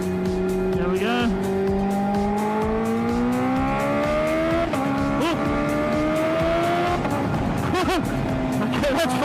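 A fast motorcycle accelerating at half throttle on a racetrack on cold tires, the loud close engine note rising steadily in pitch and shifting gears, with a rider's voice speaking over it at times.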